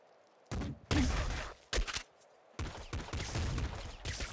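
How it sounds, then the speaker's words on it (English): A shrapnel launcher firing in the roguelike video game Nuclear Throne: several sharp, loud bursts of crackling explosive fire in quick succession, separated by brief silences, without talk. "Right, grenade launcher. A shrapnel launcher, actually."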